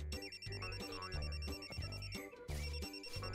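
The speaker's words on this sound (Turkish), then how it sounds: "Babamın telefonu çalıyor." A father's mobile phone ringing with a bright, repeating melodic ringtone in a cartoon scene, steady rhythmic pattern filling the whole stretch, no talking over it.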